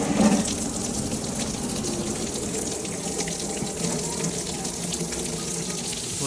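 Coolant gushing and draining from a pried-off water pump on a Honda 3.5 L engine during a timing belt job, a steady splashing pour throughout.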